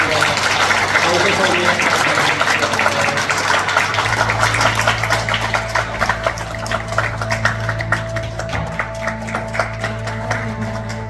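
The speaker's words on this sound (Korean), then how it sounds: "여러분 박수로 축하드립니다" Wedding guests break into sustained applause, a dense wash of many hands clapping that carries on loudly for several seconds before thinning slightly, with music underneath.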